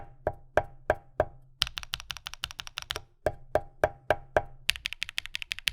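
Typing on a custom mechanical keyboard with a PC plate and internal foam, crisp distinct keystrokes in short bursts, some deeper, thockier presses and some brighter, clackier runs, close and fairly quiet.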